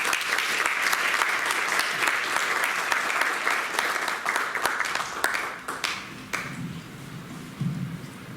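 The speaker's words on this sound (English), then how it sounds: "Now let's give A round of applause to Amiji." An audience at a campus speaker series event at Georgia Tech applauds to welcome a speaker, sustained even clapping from many hands that thins out toward the end, with a few scattered claps and some faint voices underneath.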